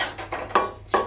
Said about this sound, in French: On mélange bien le plat.